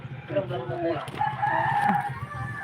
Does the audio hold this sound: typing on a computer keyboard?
no